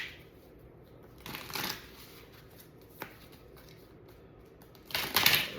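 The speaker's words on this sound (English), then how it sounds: "I'm going to shuffle one more time," A tarot card deck is shuffled in two short riffling bursts, close and crisp against a quiet background, with a soft tap in between.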